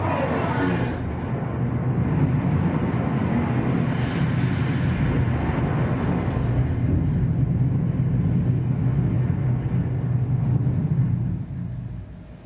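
A kamikaze plane dives with a loud, steady aircraft-engine roar as a sound effect in a tour of the WWII destroyer USS Laffey; the dense rumble holds for about eleven seconds, then drops away.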